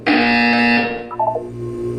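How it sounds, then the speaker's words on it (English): A loud electronic buzzer tone from the Portal 2 video game sounds for about a second, a sustained harmonic drone that cuts off and gives way to a brief quieter chime-like tail, with no talking. "You will hear a buzzer."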